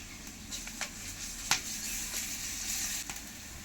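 Garlic added to hot oil with already-fried onions sizzles in a steady, close hiss, with a few sharper crackles and spatters breaking through.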